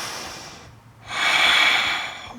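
A single deep breath during a yoga side angle pose: a quieter exhale fades out, then a strong, close inhale rushes in through the nose, with no talk.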